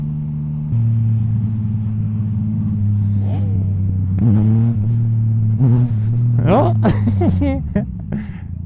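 Yamaha MT-09 motorcycle in second gear revving toward about 5,500 rpm, a loud steady engine drone that climbs in repeated sharp throttle bursts near the end, with a rider talking over it.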